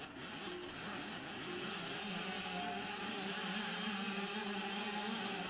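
An unmodified car racing game from the App Store, played on an iPad and steered by tilting, gives a steady, loud engine drone with a revving quality that runs throughout, with no talk over it.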